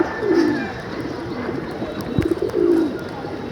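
Pigeons cooing in the rain, a few close, soft, low throaty coos repeating in short phrases over a steady patter of rainfall.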